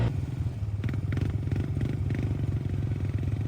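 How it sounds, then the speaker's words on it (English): The engine of a lightweight four-wheeler stuck in mud chugs steadily at low revs while a winch pulls it slowly through, with a close, loud, even drone and faint clattering. "Chris has to back up and we hook my winch onto the back of him and he just slowly pulls me through"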